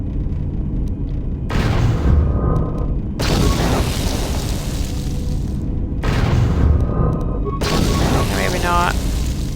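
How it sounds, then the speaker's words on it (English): Sonic grenades go off in KOTOR 2 combat as heavy, booming bursts in quick succession, loud and close, with rumbling tails between them and a voice speaking over the action. "Sonic grenades help."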